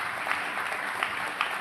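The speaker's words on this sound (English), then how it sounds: "we applaud her for her efforts there" An audience at a college commencement ceremony claps together for the choreographer, a dense, steady patter of many hands that sounds fairly near and holds even across the whole stretch, with no one speaking over it.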